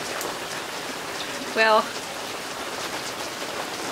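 Steady rain falls outside a greenhouse, a constant soft hiss of drops on surfaces throughout, with a brief spoken word partway through.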